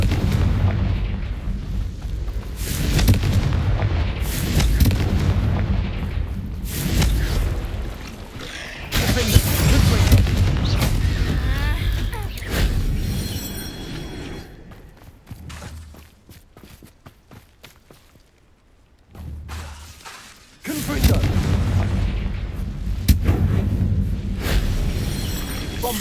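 Confringo blasting spells in Hogwarts Legacy set off repeated loud, booming explosions in heavy bursts, broken by a quieter stretch in the middle before the blasts resume, while a voice speaks among them.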